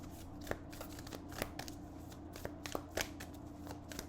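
Tarot cards being shuffled by hand, soft continuous rustling punctuated by sharp card snaps and taps at uneven intervals, close and fairly quiet, with no voices.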